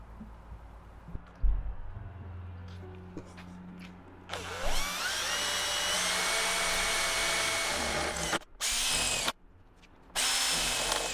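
Holes are drilled in the corners of a van body panel with a power drill: quiet shop sounds first, then a long, loud whining drill burst followed by several shorter bursts with brief stops between.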